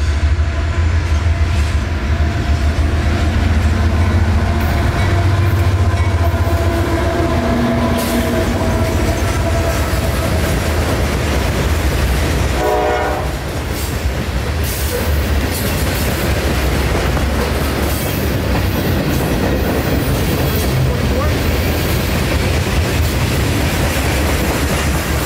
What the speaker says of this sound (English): this train, Q603, southbound mixed freight from Waycross, Georgia to Winston, Florida